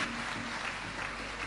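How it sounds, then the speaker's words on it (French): An audience applauds the minister of higher education at a formal ceremony, a dense, steady wash of clapping with no gaps across the short stretch. "je vous demande d'applaudir encore très fort"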